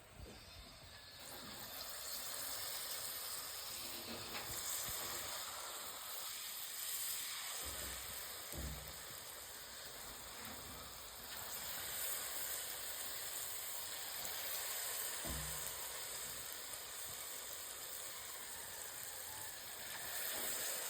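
Palm fritters (gulgula) of batter dropped into hot oil give off a steady, faint hiss of deep frying that runs unbroken, with a few soft knocks.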